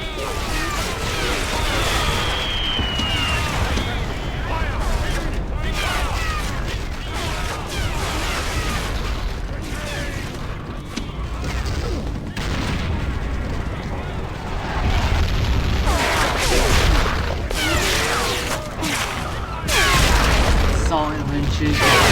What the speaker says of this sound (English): Look at that, all bombs away.